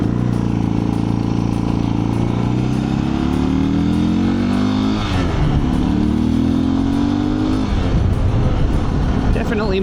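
A Suzuki DR 650 motorcycle ridden on the road, its engine running steadily throughout with rising and falling revs through gear changes, loud and close, while a rider talks over it.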